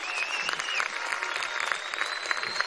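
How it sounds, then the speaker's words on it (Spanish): Applause from a crowd of young marchers at a political rally at the Miraflores palace in Venezuela, dense and lively, with a whistle-like tone drifting above the clapping. "Un aplauso para esa juventud hermosa, llena de fuerza, de futuro."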